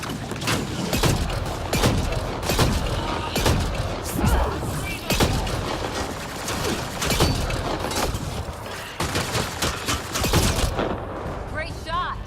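Gunfire from the Mass Effect Andromeda video game on PC, with rapid repeated shots and bursts loud and close throughout and in-game voices talking over the combat.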